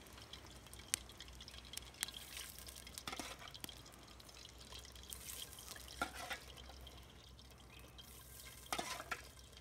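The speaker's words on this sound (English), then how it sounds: "Just let them drain for a second." Cut potatoes drain after frying prep at a campfire cooking setup, with faint, scattered drips of water falling at close range under a low steady background.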